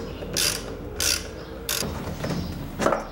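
A ratchet wrench loosens a 10 mm seat bolt on a Kawasaki KS II-50 motorcycle. Four separate bursts of quick, close metallic clicking stand out against a quiet background.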